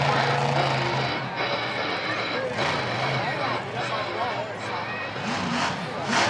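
A big monster truck engine rumbles and revs as the truck crushes over a school bus during a freestyle run, held under a steady stream of arena commentary and crowd noise.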